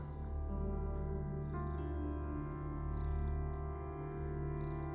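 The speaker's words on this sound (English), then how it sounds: "I don't know if you can hear my cat, but she's just appeared and she is purring rather loudly" Close, continuous cat purring, a low steady rumble with soft rhythmic pulsing, faint and alone without talk.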